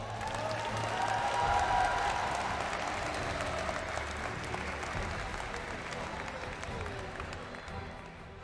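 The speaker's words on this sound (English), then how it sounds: "Can we give them a round of applause?" A crowd at the M5 World Championship esports knockout stage applauds, a dense wash of clapping that swells early then gradually thins, with some voices mixed in.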